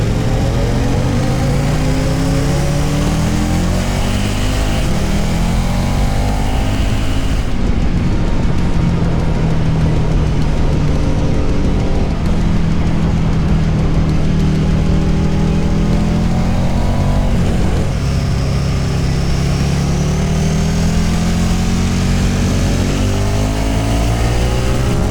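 A KTM Super Duke motorcycle lapping a MotoGP circuit during a lead-follow session, its engine droning loudly and steadily for the whole stretch with rising and falling revs and wind rush, no voices.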